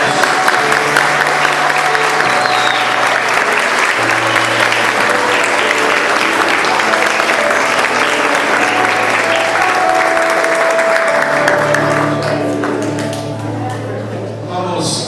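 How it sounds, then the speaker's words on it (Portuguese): Wedding guests applaud at a community wedding in a church, long sustained clapping from a large crowd with music tones underneath, fading slightly near the end. "Uma salva de palmas a todos."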